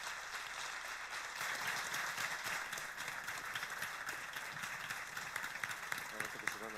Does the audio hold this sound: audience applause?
yes